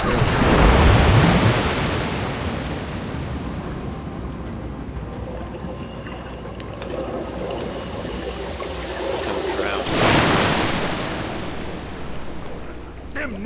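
Rushing river water in the game Metro: Last Light, a steady broadband roar that swells loudly at the start, eases into a continuous wash, then surges again near the end, with no voices.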